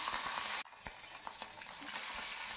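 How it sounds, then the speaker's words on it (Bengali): Pabda fish fry in hot oil in a kadai, a steady crackling sizzle that is briefly cut off, then comes back with sharp pops and spatters and slowly grows stronger. "দেখো মাছগুলো এদিকে ভাজা হচ্ছে"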